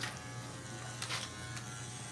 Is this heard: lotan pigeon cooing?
no